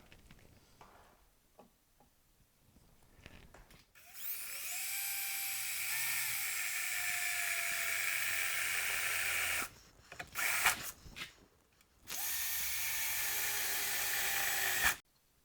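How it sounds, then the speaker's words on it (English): A power drill with a step bit cuts holes in the door of a 2009-2014 Nissan Murano, making two loud, sustained whining bursts separated by a brief pause, after a quiet start. "And now I'm going to take my drill with a step bit on it."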